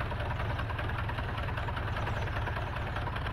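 Engines on a flying contraption in Garry's Mod run with a steady, dense droning hum and a faint rapid pulsing, holding at an even level throughout with no talk.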